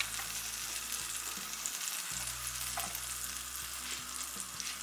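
Ghee sizzles and crackles steadily in a hot pan as vermicelli is fried for a dry fruits payasam, with occasional stirring scrapes, close and continuous.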